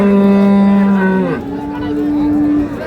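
A cow moos loudly at a village cattle market selling improved-breed dairy cows with calves, one long low call that shifts pitch midway and carries for nearly three seconds amid market noise.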